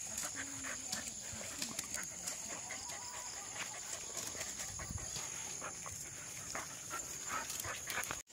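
A dog at a rural hillside home yelps and whimpers in short bursts across a steady outdoor backdrop of insects and distant fowl, fairly close and moderately loud.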